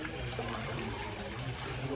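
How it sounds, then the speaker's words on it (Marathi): Water flowing steadily beneath Kunkeshwar temple at Devgad, a continuous close gurgling wash with no breaks and faint talk underneath. "बघा असं पाणी येतं इकडनं."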